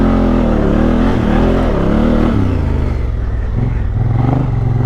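Honda Africa Twin motorcycle engine revving loud and close in first gear while riding an off-camber off-road slope, with rising and falling pitch as the throttle changes and no talk.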